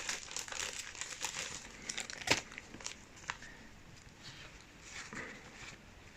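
A brand-new plastic card sleeve being handled up close, soft crinkling and rustling throughout with one sharper crackle partway through, quiet and without speech.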